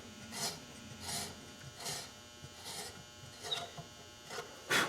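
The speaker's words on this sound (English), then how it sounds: "I'm letting the reamer and its flutes do the cutting for me" Hand reamer cutting a peg hole in wood for a guitar tuner, heard as a series of soft, rasping scrapes, about seven strokes in a slow, even rhythm, quiet and close with faint hum beneath.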